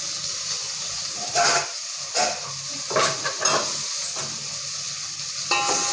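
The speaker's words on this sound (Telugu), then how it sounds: "ఇప్పుడు మూత తీస్తున్నా." Steam hissing from a pot of Telangana-style pappu charu (dal) on the stove as the lid comes off, a steady close hiss and bubbling with a few brief clinks.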